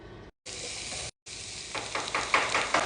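Onions fry in oil in a pan, a close steady sizzle broken by two brief silent cuts, then crackling and popping more strongly toward the end.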